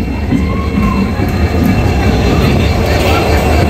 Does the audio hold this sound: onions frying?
no